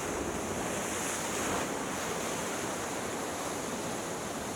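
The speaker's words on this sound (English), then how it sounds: "Where the waves" Ocean waves surge into a rock funnel and lagoon at Injidup Natural Spa, Western Australia, making a steady, full hiss and wash of surf with wind noise and no talking.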